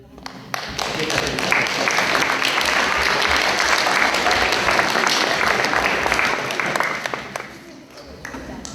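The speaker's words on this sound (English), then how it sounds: "Can we give a round of applause to Nelson and Elder?" Audience applause for Nelson and Elder at a storytelling stage event: a few early claps build quickly into full, loud clapping from a crowd, holding steady before tapering off near the end.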